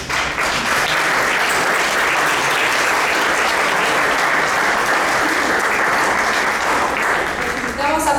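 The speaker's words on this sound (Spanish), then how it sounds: "para quienes pido un fuerte aplauso" Loud, sustained applause from an audience at a book presentation for a novel about love during carnival, steady and dense throughout the whole stretch with no break.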